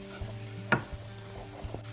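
Melting cheese is whisked and stirred into an alfredo sauce, producing soft, irregular scrapes and taps of a utensil against the pan with one sharper clink, all over a low steady hum.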